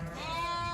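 A sheep, one of a flock of rams being driven into a pen in Uzbekistan, gives a single close, sustained wavering bleat.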